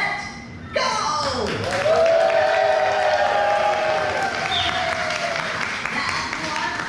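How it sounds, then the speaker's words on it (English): Theme park audience at SeaWorld San Antonio bursting into laughing, clapping and cheering on cue, a loud sudden wave of crowd noise with whoops and shrieks that holds steady, followed by scattered clapping. "everybody laugh and clap and make a lot of noise"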